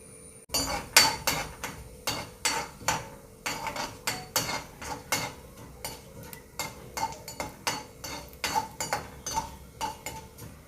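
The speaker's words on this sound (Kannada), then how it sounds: "ಇವಾಗ ಸಾಸಿವೆ ಪಟಪಟ ಅಂತ ಹೊಡಿಯುವಾಗ ಸ್ವಲ್ಪ ಉದ್ದಿನ ಬೇಳೆನ ಸೇರಿಸ್ತಾ ಇದ್ದೀನಿ" Mustard seeds splutter in hot oil in a pan while ridge gourd palya is being cooked, giving a dense run of sharp, close pops and crackles in an uneven rhythm throughout.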